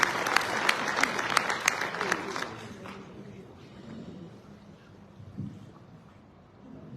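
An audience at a municipal gathering with the mayor of Montignac-Lascaux claps loudly for a few seconds, then the applause fades to a low murmur and scattered sounds.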